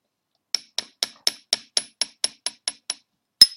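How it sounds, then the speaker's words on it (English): Hand engraving metal with hammer and chisel: about ten sharp, evenly spaced metallic taps, close and clear, then a brief pause and one harder strike. "what I like about hammer and chisel is the fact that you can actually hear what you are doing"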